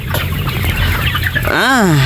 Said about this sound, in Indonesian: Ini umur ayam 28 hari teman-teman.